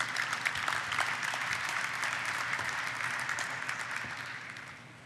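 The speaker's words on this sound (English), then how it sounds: "let's give a round of applause for David Mustine" Applause from the audience at the YOUNG 2011 event as David Mustine, General Manager for Energy at JobsOhio, is introduced: a thick burst of clapping that holds steady, then tapers off over five seconds.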